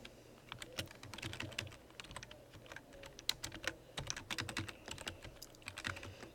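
Rapid typing on a computer keyboard during a programming lecture on sorting arrays, a close run of quick irregular key clicks with brief pauses, alone without talk.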